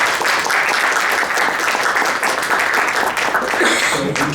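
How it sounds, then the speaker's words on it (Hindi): Audience applause at a book launch for a Hindi book, a dense sustained wash of many hands clapping at steady loudness throughout, with no talk over it. "एक बार जोर से तालियां बजा"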